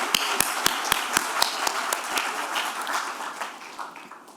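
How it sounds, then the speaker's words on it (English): Applause for the Essex County Executive at a groundbreaking ceremony, steady crowd clapping with sharp individual claps standing out, fading gradually toward the end. "Let's give him a round of applause"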